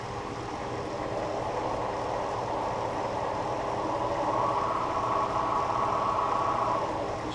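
A wood lathe spinning a thrice-turned bowl in a workshop, a steady continuous motor hum and whir with a faint higher tone that rises slightly partway through, no talking.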